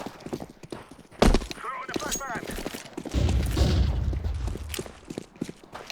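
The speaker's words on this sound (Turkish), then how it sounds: "I'm throwing a flashbang." A flashbang grenade is thrown in a competitive video game, with a sharp thump and a rumbling burst amid busy game noise, while a player talks over it.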